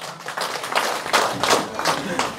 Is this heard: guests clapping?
yes